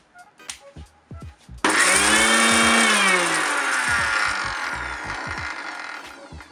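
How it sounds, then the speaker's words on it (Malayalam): A dry kitchen mixer grinder blitzes a couple of pinches of whole cumin seeds, starting abruptly with a loud whirring roar after a few light clicks and knocks, then holding steady and easing slightly toward the end. "അതിലേക്ക് ആ ജീരകം ഇട്ടിട്ട് നമ്മൾ ഒന്ന് അടിക്കണം."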